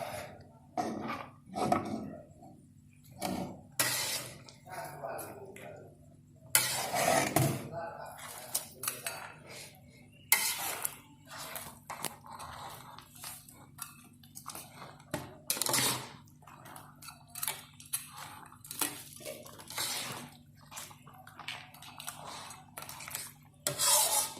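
Aceh-style crab noodles are stirred in a pot with a metal utensil, making intermittent scraping, clinking and rubbing bursts that come in uneven strokes under a spoken voice.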